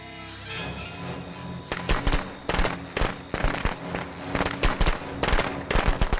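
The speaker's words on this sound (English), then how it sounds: "I just hit him with the firecrackers up there" Rapid bursts of crackling firecracker pops in the video game Friday the 13th go off in irregular clusters, loud and close, with a steady background hum underneath.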